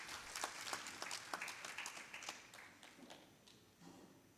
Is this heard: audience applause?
yes